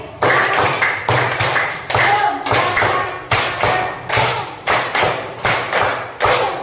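A class of young schoolchildren claps together in a patterned chant, three rounds of five quick synchronized claps, loud and near, with steady rhythmic bursts.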